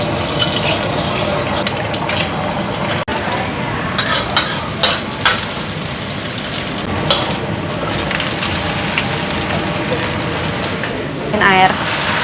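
Garlic sizzles and fries in a pan while being stirred, with a steady broadband crackle and intermittent scraping clatter, close and fairly loud, along with some water-like splashing and a brief voice near the end.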